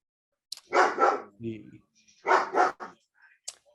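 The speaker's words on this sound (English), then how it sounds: "So I do hear a dog." A dog barks in the background of an online video call, two short clusters of loud barks separated by a pause, with faint scattered noises around them.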